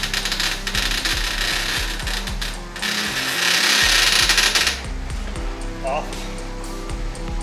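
An indoor bike trainer makes a steady, rhythmic creaking and clunking during a ride, with repeated low knocks running throughout and a voice faintly present beneath the mechanical noise.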